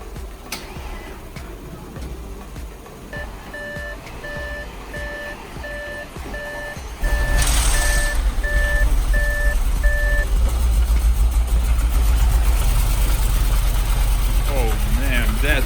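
A wrecked and rebuilt 2013 Audi S6 with a drained battery is jump-started. The engine turns over, then abruptly catches into a loud, deep exhaust rumble. A steady two-tone electronic beeping runs over the first half.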